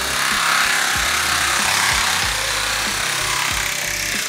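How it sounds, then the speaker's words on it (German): Heavy drilling at a building construction site where a facade is being removed, a loud continuous grinding roar with a low rhythmic pulsing throughout, no speech over it. "Wenn wir jetzt mal hier so rübergehen, da wird richtig gebohrt."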